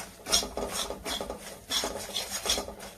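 Gram flour is sautéed with turmeric, garam masala and red chili powder, a spoon scraping and rubbing rhythmically across the pan in repeated raspy strokes, close and clear with no talking.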